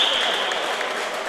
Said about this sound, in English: the Meath crowd and everyone here giving him a standing ovation